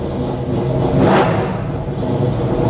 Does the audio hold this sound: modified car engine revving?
yes